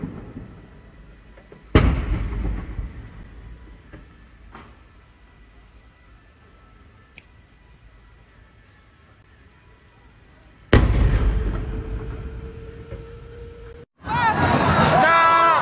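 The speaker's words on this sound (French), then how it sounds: "Explosion de bouteilles de gaz à Yaoundé" Gas cylinders exploding in the Vogada neighbourhood of Yaoundé, Cameroon: a sharp, loud detonation at about 2 seconds, another big blast near 11 seconds with a lingering rumble, and a third burst near the end, with distant crowd noise between.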